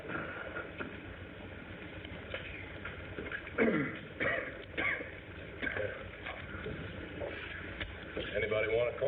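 Several short, rough coughs and throat-clearing sounds break out amid muffled voices and chatter.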